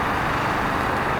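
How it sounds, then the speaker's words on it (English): A tar truck at a roofing job gives off a loud, steady engine drone, close by and unbroken. "this guy's obviously doing a roof job there with a tar truck like that"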